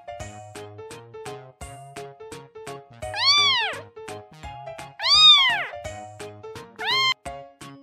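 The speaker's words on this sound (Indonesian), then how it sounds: "Kucing. Ya," A domestic cat meows three times, with long rising-and-falling, loud and close cries spaced a couple of seconds apart over a steady sequence of short tonal plucks.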